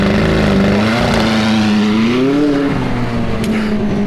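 A McLaren 675LT, a car that had been wrecked, revs hard at full throttle with a loud, sustained engine drone that climbs and wavers in pitch, close and continuous.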